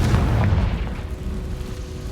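Confringo blasting spell detonating in Hogwarts Legacy, a single deep booming explosion at the start that rumbles and fades over a couple of seconds.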